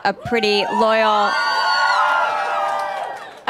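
An excited crowd of fans screams, whoops and cheers loudly in high, overlapping voices that swell and hold for a few seconds.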